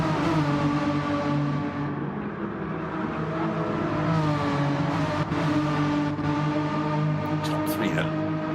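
Renault Megane Trophy race cars climb a hill in a sim race, a steady engine drone with rising harmonics running loud and continuous throughout.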